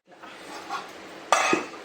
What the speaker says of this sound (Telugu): సో ఇట్లా పెట్టేసి దీన్ని మూత పెట్టేద్దాం